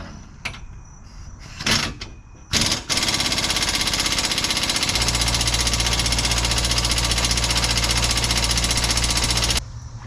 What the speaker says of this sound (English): you saw one came out really pretty easily with the impact wrench